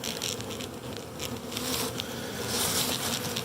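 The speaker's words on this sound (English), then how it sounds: "So the handful of bees that are still in here are kind of clinging to the sides in their own little clusters." Honey bees buzz steadily and close in a Flow Hive after a swarm, a dense droning hum with scattered faint taps and no voices.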